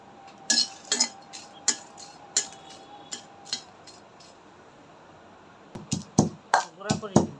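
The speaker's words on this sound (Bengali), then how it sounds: "শুকনো মরিচটি ভেজে নেব শুকনো খোলায়" Dry red chillies roasting in a dry pan without oil, irregular metallic scrapes and clinks from stirring, with a quiet pause and then a denser burst of clattering.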